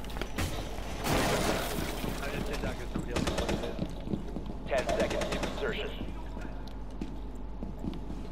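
Bursts of rapid gunfire from the Rainbow Six Siege video game, with a long volley around the one-second mark and further rattling rounds later, over constant game ambience and background noise.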